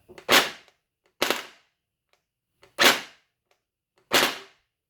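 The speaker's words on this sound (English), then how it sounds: "So that's semi-automatic at the moment, so I'm getting sometimes 2 shots, sometimes 1." An HE ACR gel blaster fires on semi-automatic: four sharp, close shots spaced roughly a second apart, each a crisp snap with a brief tail, separated by near silence and faint mechanical clicks.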